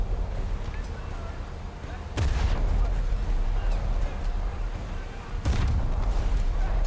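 Naval gun salvos from the US treaty cruiser USS New Orleans in a video game, two heavy booming blasts a few seconds apart over a constant low battle rumble.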